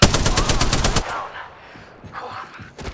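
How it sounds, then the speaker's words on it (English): Rapid automatic gunfire in the battle royale shooter Apex Legends, a loud burst of evenly spaced shots for about a second, then quieter game sounds and a brief final crack near the end. "Getting shot at."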